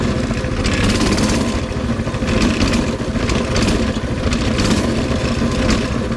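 A Coleman 200cc mini bike engine runs steadily at a loud, close idle on its first start of the day, a continuous rumbling putter with slight fluctuations.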